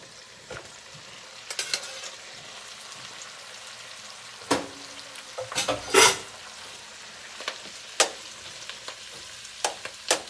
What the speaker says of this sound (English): So now here goes this sauerkraut.